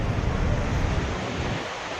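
Roaring white-water rush of the Duduma waterfall in Koraput, a dense, steady broadband torrent with wind buffeting the microphone, loud and continuous throughout with no talk.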